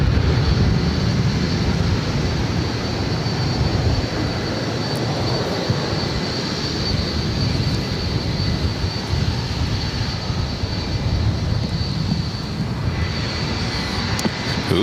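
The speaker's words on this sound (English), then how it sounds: "This is Delta Airlines 2606 taking off to Seattle on a" A Delta Air Lines Boeing 737-900ER taking off from LAX for Seattle, a loud, continuous jet roar that stays steady and broad for the whole stretch, with no voices.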